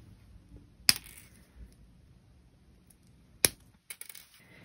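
Jewelry wire being snipped with cutters while wire-wrapping a cabochon pendant, two sharp isolated clicks a few seconds apart, close and crisp, followed by faint small taps in a quiet room.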